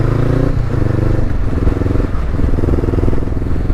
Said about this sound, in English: Scorpion exhaust is a bit too rowdy.